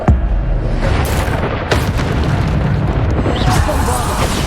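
A Bombarda spell explodes in Hogwarts Legacy, a loud, dense booming blast that rolls on under continuous game noise, with a few sharper bursts.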